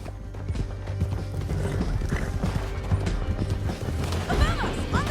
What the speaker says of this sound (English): Get him on your horse. Now let's get out of here.